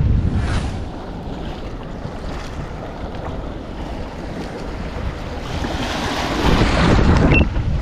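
Wind and sea waves wash around a small, low-sided fishing kayak out on the ocean, with a steady broadband rush that swells louder toward the end, and wind buffets the microphone.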